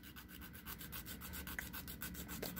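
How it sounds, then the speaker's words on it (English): A sanding file rubs rapidly back and forth over the plastic legs of an Entry Grade Build Strike Exceed Galaxy Gundam model kit, making a faint, even rasping rhythm of short strokes. "So I'm going to sand this all the way."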